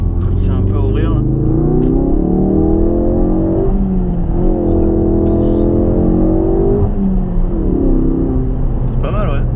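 A Ford Focus RS on a race circuit accelerates hard, its engine note climbing and falling through several loud, close pulls, heard from inside the car.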